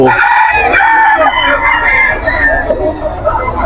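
Several Golden Boy gamecock roosters crow loudly and repeatedly, one call overlapping the next, amid clucking at a rooster sale where people talk over the birds.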